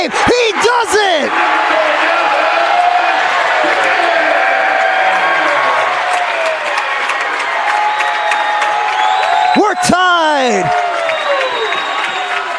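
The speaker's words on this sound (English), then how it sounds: "The crowd erupts, it is loud in here." Loud basketball crowd cheering and roaring in a high school gym after a game-tying three-pointer in a boys' game, sustained and dense with whistles and shouts, a commentator talking excitedly over it throughout.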